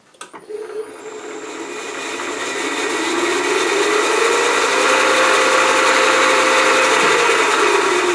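A power drill spins up after a few clicks and then bites steadily into plastic, a loud, sustained whirring grind that holds to the end.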